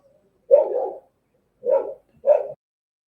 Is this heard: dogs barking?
yes